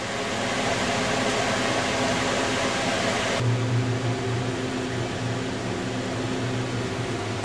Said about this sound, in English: And there's the fan startup.